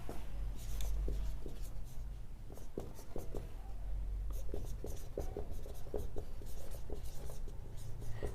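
Writing on a board during a chemistry lesson on solid-state defects: steady scratching and tapping strokes of chalk or marker, close and continuous, with short sharper clicks scattered throughout.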